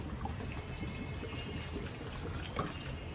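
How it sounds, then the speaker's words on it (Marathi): Water poured into a homemade amla (gooseberry) juice mix with lemon juice and pink salt, a soft steady trickling stream running for about three seconds, fairly quiet and close, with no talk. "आणि मग त्याच्यात पाणी टाकायचं"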